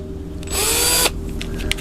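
A power drill bores a hole through an aluminum side panel on a quarter-scale Balsa USA Fokker D.VII model: a short, loud, high whine for about half a second, close, then stopping, with faint clicks after.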